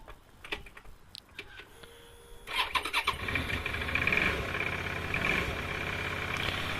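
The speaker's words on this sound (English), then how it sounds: "Let's see if the bike will start today." A motorcycle is cranked and catches, its engine settling into a steady, fairly loud idle after a few seconds of starter clicks and sputters.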